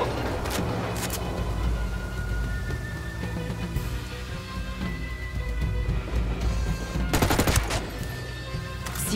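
Gunfire in the video game Ghost Recon Wildlands, dense bursts of automatic and rapid shots, loud and close, with heavier clusters near the start and toward the end and no clear talking.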